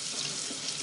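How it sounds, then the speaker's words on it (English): Water runs steadily from a kitchen tap onto an EnviroCloth to wet it, a close, continuous hiss with no voices. "I'm just using water to get it wet."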